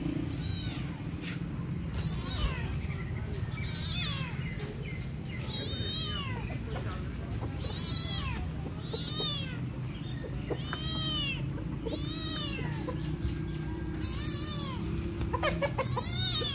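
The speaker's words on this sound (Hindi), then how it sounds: "और ये देखें ये छोटा सा बिल्ली का एक बच्चा आया जो बोले जा रहा है।" A small kitten meows repeatedly in short, bright rising cries, close and insistent, over a busy farmyard backdrop with chickens clucking nearby and people talking faintly.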